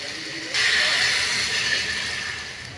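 A pot of fish stew with tomato, shrimp cube and chili comes to a boil, giving a steady, loud hiss of bubbling and steam that swells suddenly and then holds, close by with no talk over it.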